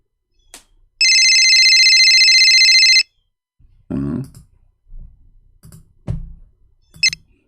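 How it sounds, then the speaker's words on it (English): A cell phone call rings with a steady electronic tone for about two seconds, followed by scattered low thumps, a burp-like throat sound and brief clicks. "This is his cell phone."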